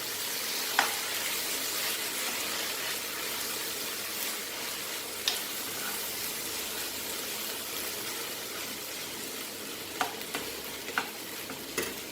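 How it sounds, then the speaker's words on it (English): Quiet, continuous sizzling in a frying pan as lentils are added to Goan sausages, with a few soft scrapes and clinks as they are stirred. "At this stage I will be adding my dal to this, that is lentil. And mix this nicely."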